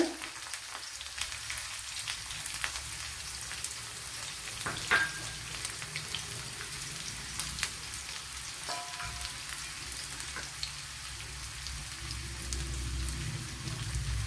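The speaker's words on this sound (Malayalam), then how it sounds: "രണ്ട് കൊച്ചുള്ളി അരിഞ്ഞെടുത്തിട്ടുണ്ട് അത് ഇട്ട് കൊടുക്കുക" Chopped shallots frying in hot oil in a pan while making a cucumber and mango pulisheri, giving a steady, dense sizzle and crackle that runs throughout without any talking.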